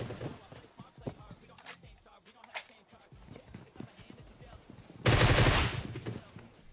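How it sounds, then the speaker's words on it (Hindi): Groza rifle fire in PUBG Mobile, scattered sharp shots early on, then a loud sustained burst near the end, with game sounds in between. "मैं हर बार कवर से बाहर जा रहा हूं, थोड़ी गोली चला रहा हूं और वापस आ जा रहा हूं।"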